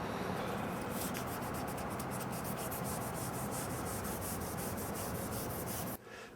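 Close, steady sanding of oxidized aluminum car window moldings, a continuous rough rubbing hiss with a quick back-and-forth rhythm that stops abruptly near the end, with no talking.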